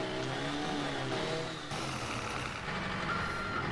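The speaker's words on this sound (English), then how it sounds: "Tow truck coming through!" A tow truck in the video game Garry's Mod, its engine rumbling steadily with faint repeated reversing beeps over the motor, fairly close and continuous with no talking.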